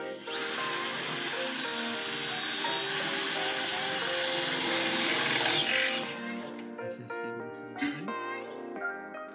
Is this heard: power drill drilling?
yes